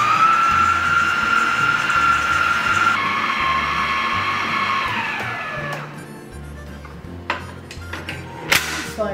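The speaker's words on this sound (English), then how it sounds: "I'm going to mix this well. I got the mixing attachment on here." A Millertech battery-powered stand mixer with its mixing attachment runs steadily, whirring loudly as it blends butter, cinnamon and sugar, then the motor winds down and gives way to a few clunks and clicks.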